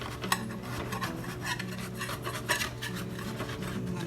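A freshly baked keto bread loaf is loosened and tipped out of its loaf pan, giving close rasping, scraping rubs of metal against crust with a few light knocks, and no talking.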